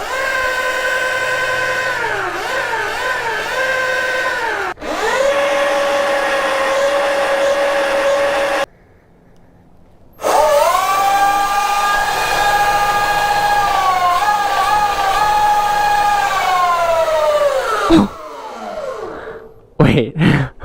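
An E-Ride Pro SS electric dirt bike pinned at full throttle, a loud rising electric motor whine that sweeps up and settles, cuts out, then returns in a second long run before ending in short bursts.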